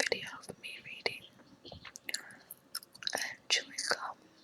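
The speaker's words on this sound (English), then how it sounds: "chewing gum" Close, intimate whispering mixes with wet, sticky gum chewing and little smacking clicks, the soft voice and mouth sounds alternating in an irregular rhythm.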